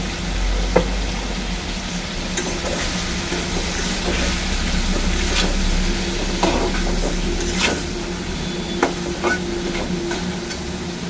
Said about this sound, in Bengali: খুব বেশি ভাজবো না চিংড়ি মাছটা, হালকা ভাজা হলেই নামিয়ে দেবো।